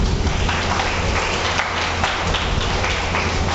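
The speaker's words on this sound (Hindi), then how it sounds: "ताली तो बजाओ।" Audience clapping at a spiritual talk in Nepal, steady dense applause filling the room for several seconds without a break.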